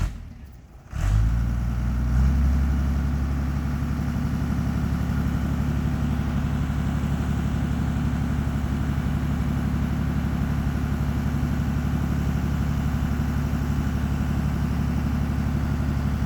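A dump truck engine idles and warms up, starting with a brief clatter before settling into a steady low diesel rumble that holds evenly and close throughout with no talk.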